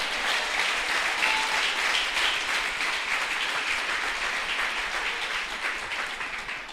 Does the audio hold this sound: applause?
yes